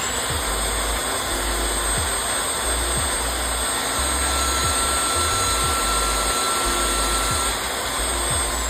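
A Tri-Tool facing tool motor deburring 1/2-inch 304 stainless tube hums at a loud, steady whine. Faint rhythmic ticks of cutting sound at regular intervals throughout.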